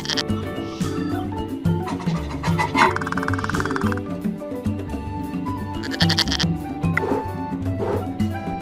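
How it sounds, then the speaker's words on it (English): A cartoon goat in a toddler farm game bleats loudly several times over bright game music and interface chimes. "This is a goat. What does a goat say?"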